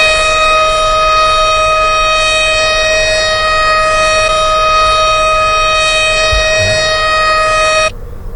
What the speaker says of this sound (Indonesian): karbon dioksidasi O2 alarm,